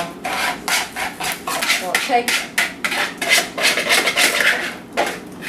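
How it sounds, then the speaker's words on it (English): A whisk scrapes through a cool cornstarch mixture in a pan, breaking down lumps in quick rhythmic rasping strokes, loud and close, with brief pauses between bursts and a single spoken word. "stir that in while it's cool, and you just whisk it till you get all the little lumps of the cornstarch broken down"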